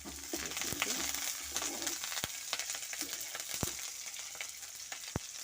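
Shallots, dried red chillies and curry leaves fry in a pan, a close crackling sizzle with sharp pops and spatters scattered throughout.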